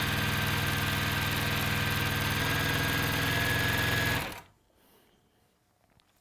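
A sewing machine runs steadily at high speed stitching strips of a jelly roll quilt, a dense continuous whir that cuts off abruptly after about four seconds, leaving near silence.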